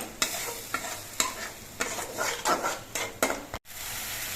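Spice paste for a masala rohu curry fries in a pan as it is cooked down, with a soft steady sizzle broken by repeated scraping stirs of a spoon against the pan.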